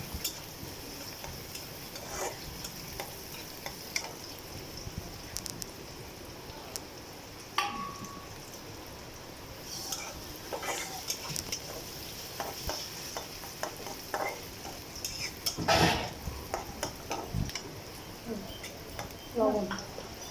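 Onions frying in a pan, a steady hiss under frequent stirring scrapes and utensil knocks, with a few louder clatter bursts and intermittent speech.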